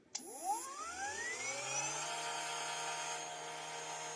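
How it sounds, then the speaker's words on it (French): An electric brushcutter motor, wired to a 40-volt control board, spins up with a sharp click and a rising whine, then runs as a steady high-pitched hum with a faint low drone and no talking. "maintenant, c'est câblé sur la débroussailleuse"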